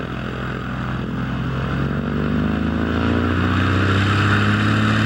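A tow plane's propeller engine drones steadily and loudly as it pulls a glider on its takeoff run, the pitch rising slightly as power builds, with no voices over it.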